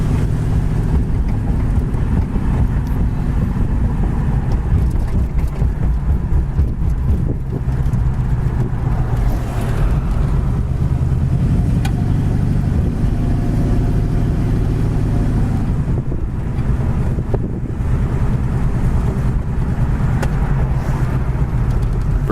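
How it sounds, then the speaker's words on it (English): A 1966 Ford Mustang convertible, A-code GT, cruising down a road, its engine a steady low rumble mixed with road and wind noise, constant and fairly close throughout with no one speaking. "Car seems to drive nice and straight down the road."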